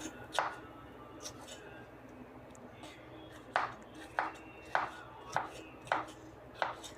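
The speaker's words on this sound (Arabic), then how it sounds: "هقطع الكميه اللي معايا وارجع لكم تاني" A knife chops onions and peppers on a board: a few scattered cuts, then a run of about seven crisp, evenly spaced chops, close and distinct over a quiet room.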